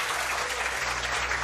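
Applause from a studio audience at the close of a restaurant-makeover reality show, a steady dense clatter of many hands clapping at an even level throughout.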